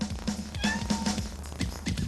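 A cat vocalizes with a few short, faint meows and soft murmuring calls, spread across a couple of seconds over light background noise.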